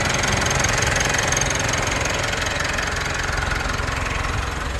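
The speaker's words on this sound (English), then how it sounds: "So now the engine is running like beautifully." A Mitsubishi Triton pickup engine, recovering from water damage after sitting flooded for about a week, idles steadily up close with a continuous rumbling drone and faint knock-like pulsing, no talk.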